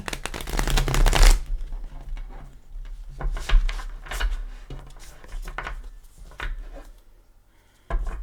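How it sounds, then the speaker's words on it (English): Tarot cards being shuffled in a loud riffling burst at the start, followed by softer intermittent card handling and light taps. "Already pre-shuffled, but I'll give it a shuffle or two."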